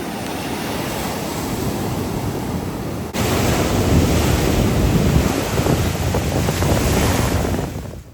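Ocean waves break and wash onto a beach in St. Barthelemy, a continuous loud surf rush with wind buffeting the microphone and no voices.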